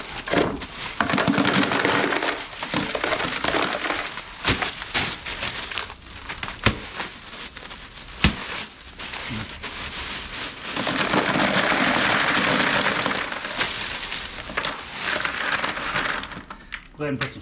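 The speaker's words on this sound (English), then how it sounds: "We're going to put in the ice here into this guy and get him going." Ice and rock salt poured around the outer edges of a homemade ice cream maker's canister, a continuous rough rattling, crunching pour that swells and eases over the clip, close and loud, with occasional sharper knocks.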